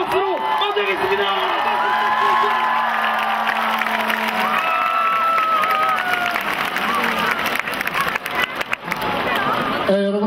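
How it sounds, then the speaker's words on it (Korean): A theatre audience at a university festival event cheers, whoops and applauds to welcome a special guest, a loud sustained crowd roar with shouting voices throughout. "이 자리를 특별하게 만들어주신 특별한 선생님께 뜨거운 박수로 맞이하겠습니다."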